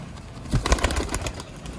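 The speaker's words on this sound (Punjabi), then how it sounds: "ਬਹੁਤ ਹੀ ਨਾਯਾਬ ਕੈਟੇਗਰੀ ਦੇ ਦੋਸਤੋ ਕਬੂਤਰ" Rare Sialkoti pigeons coo and flap their wings close by, a short burst of rustling wingbeats and low calls over a quiet background.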